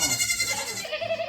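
A goat bleats in a farm setting, giving a close, wavering, nasal bleat that lasts about a second, with little else around it.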